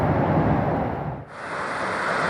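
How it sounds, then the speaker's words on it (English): Desert nature ambience used as a Xiaomi MIUI 10 system sound: a steady, loud broadband rush like wind, with a brief dip midway before the airy hiss resumes, no voices. "Sound of the desert"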